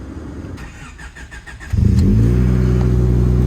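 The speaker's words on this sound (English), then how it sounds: "Give her a nice little cold start for you now." A Honda Civic EG cold-starts after a few quiet clicks, its engine catching abruptly and settling into a loud, steady, booming idle through a loud exhaust, close by.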